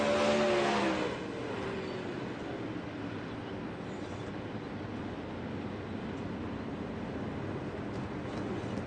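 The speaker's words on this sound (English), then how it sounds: "in the 360 wing sprint cars." Roar of 360 winged sprint cars racing at Volusia at night: a loud car sweeps past at the start, then a continuous distant engine drone fills the rest.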